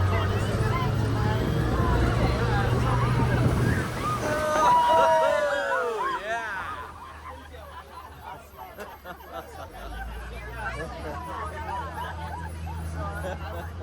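An amphibious tour vehicle carrying a crowd on a harbor sightseeing tour drives down into the water, with a steady engine rumble, wind buffeting and splashing as it enters, over the chatter of passengers.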